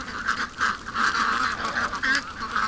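A flock of ducks quacking and honking continuously outdoors, overlapping nasal calls in quick pulses at moderate distance, with no voices.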